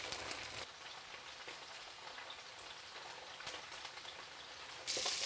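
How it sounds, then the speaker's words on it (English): Salmon fillet for teriyaki cooking in a covered pan, giving a faint, steady hiss and patter like light rain that runs on evenly, then brightens for a moment near the end. "Let's cover this and cook for 3 minutes."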